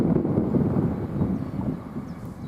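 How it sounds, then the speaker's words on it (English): Wind at Grantham railway station on a blustery day, a low, continuous buffeting roar across the microphone, steady and fairly loud with no voices. "Windy time"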